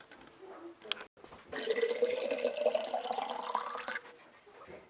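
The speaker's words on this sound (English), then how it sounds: "Filled up my water." A water bottle filled from a kitchen tap, the pitch of the running water rising steadily as the bottle fills over several seconds, preceded by a brief clink and followed by a faint trickle, quiet and close.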